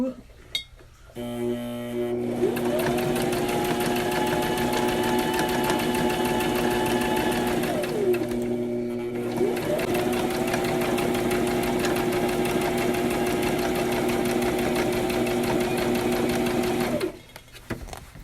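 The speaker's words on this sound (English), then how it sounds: "I've got the zipper back up on the sewing machine, and here we go." A sewing machine whirs steadily in two long runs of rapid stitching while sewing in a zipper, separated by a short pause, its motor pitch rising and falling at each start and stop.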